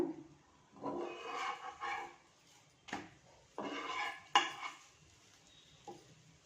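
A chapati being turned on a hot tawa, with scattered clinks and scrapes of a utensil against the pan in short separate bursts, fairly close and with no talk.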